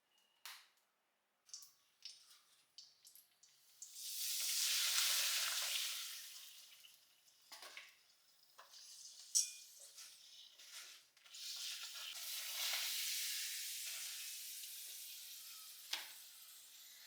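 Spinach sizzles as it is sautéed in a hot pan, a soft broadband hiss rising and falling with scraping stirs and occasional light clicks of the utensil, close but fairly quiet.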